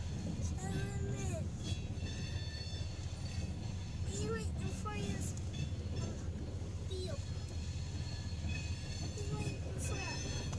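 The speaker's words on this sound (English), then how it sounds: "This is the longest train yet." A CSX freight train rolls very slowly through Effingham, Illinois, its wheels squealing and screeching in repeated bursts over a continuous low rumble, with voices talking nearby.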